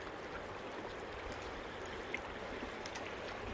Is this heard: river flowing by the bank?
yes